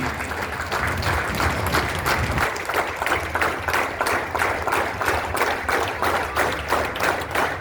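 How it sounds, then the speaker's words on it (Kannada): A crowd applauds steadily at the inauguration of a BMTC transport employees' sports meet, dense sustained clapping filling the whole stretch at fairly loud, even level. "ಕೈಗೆ ಕೈಗೆ ಚಪ್ಪಾಳೆ"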